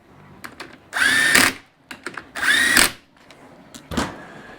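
Power tool driving bolts into a Massimo engine bottom end, two loud whirring bursts of about half a second each, separated by clicks and small handling noises, then a short final burst.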